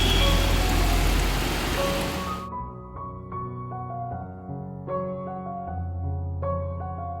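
Rain falling as a dense, steady hiss for the first couple of seconds, then cutting off abruptly into a gentle melodic music passage.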